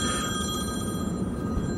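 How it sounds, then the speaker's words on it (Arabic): A telephone rings with a steady electronic bell tone over a dense, loud background of room noise, with no one talking. "اوكي جاينا تليفون"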